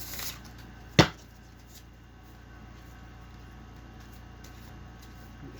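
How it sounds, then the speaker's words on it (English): A single quick riffle of a card deck snaps out once, brief and close, followed by quiet room tone. "Shuffle it real quick."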